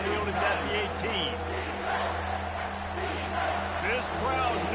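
Stadium crowd roars and murmurs steadily in an American football video game, a continuous near wash of noise with swelling cheers under excited play-by-play commentary.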